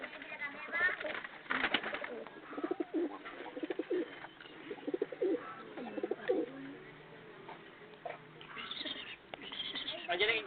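Pigeons coo in repeated soft, throaty phrases, fairly faint, mixed with other bird calls and rustling. People talk now and then in the background.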